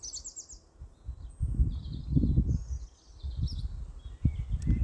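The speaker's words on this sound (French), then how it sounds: "Nous allons être accompagnés par le chant des oiseaux." Several birds chirp and sing in short, high, fairly faint phrases over a low rumbling, rustling background that swells and fades, with no speech.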